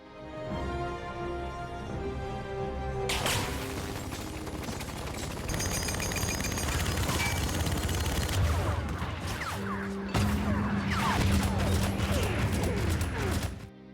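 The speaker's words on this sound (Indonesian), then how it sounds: "Mendengar suara tembakan yang begitu keras" Heavy gunfire from an action film as a gunman sprays a shop, dense bursts of shots with crashing debris and mechanical clatter, loud and sustained under a dramatic music score.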